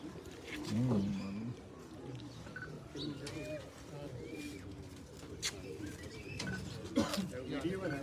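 Pigeons coo repeatedly nearby in soft, low, rolling calls, with other birds chirping and people talking quietly in the background.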